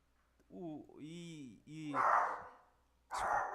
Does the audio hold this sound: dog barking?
yes